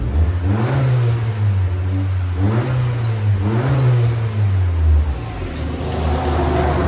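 Revving from a 2021 Honda Accord 2.0L turbo with a muffler delete, loud and close: three or four deep rises and falls of the exhaust, then the engine settling to a steady idle.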